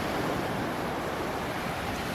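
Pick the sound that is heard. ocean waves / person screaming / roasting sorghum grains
ocean waves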